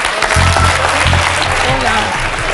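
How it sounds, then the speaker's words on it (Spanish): Studio audience applause on a Spanish television show, loud and steady clapping from the crowd with a voice and some low music underneath. "¡Un aplauso para él!"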